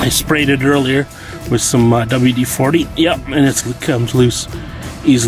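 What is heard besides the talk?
No everyday noises stand out.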